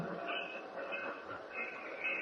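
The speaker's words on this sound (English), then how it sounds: "This is fast train." Train ride effect in an old Superman radio drama: a steady, muffled rumble of a moving railroad car with faint high squeals from the wheels, running continuously without speech.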